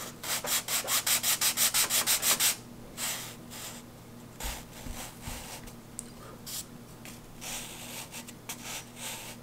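Wooden model airplane parts for a free-flight glider being sanded by hand: a fast, even run of about a dozen close rasping strokes, then slower, irregular rubbing passes.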